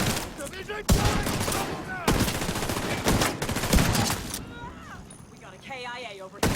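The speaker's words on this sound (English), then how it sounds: "Deploying turret! Division turret!" Deployed turret firing in The Division video game, with rapid bursts of gunfire and explosive cracks, loud and close, under urgent in-game voices talking throughout.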